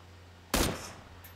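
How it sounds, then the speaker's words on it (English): A single sharp gunshot in PlayerUnknown's Battlegrounds cracks loud and close, then decays quickly into a short echoing tail over a low steady hum. "Who's shooting at what? No, no, I shot."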